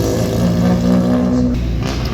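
Mazda MX-5 race cars with mufflers removed, heading out to practice at Virginia International Raceway, give a loud, close, raspy engine drone with a steady buzzing tone that shifts slightly toward the end.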